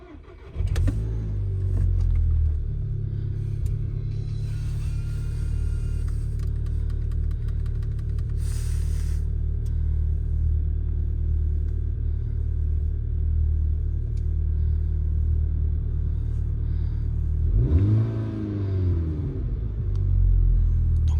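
A Volkswagen Golf 6 GTI cranks and fires up, then idles with a steady deep rumble close by; near the end the engine is briefly revved, with no speech over it.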